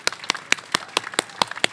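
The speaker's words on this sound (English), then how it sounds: "So a big round of applause." Applause at an outdoor neighborhood block party on Fair Street, heard as sharp, evenly spaced claps roughly every quarter second, moderately loud, like a small group clapping in unison rather than a full crowd ovation.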